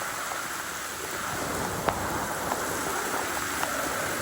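Heavy rain pours down in a dense, even hiss that goes on without a break, with a few faint drips or ticks standing out.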